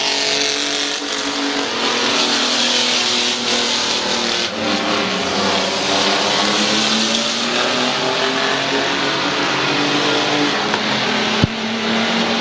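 Race cars roar around Midvale Speedway in a steady, loud, continuous engine drone, the pitch rising and falling as the pack circles, with a brief sharp knock near the end.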